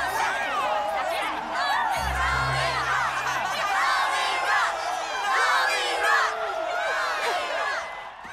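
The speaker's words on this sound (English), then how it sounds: "This crowd wants a concert." A crowd at a canceled concert cheers and shouts steadily throughout, a dense wash of many voices with excited whoops, fairly loud and continuous with no single speaker standing out.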